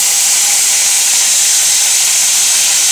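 Garlic and green chillies sizzle in hot oil in a Bengali kitchen wok, a steady, loud, bright hiss that runs unbroken throughout, with no voices.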